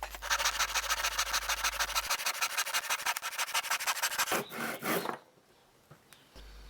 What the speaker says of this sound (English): Then very carefully cut along the line with your tenon saw.